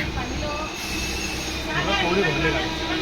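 A packed passenger train rumbles steadily along, a constant loud rattling roar with a high whine above it, and voices murmuring faintly underneath.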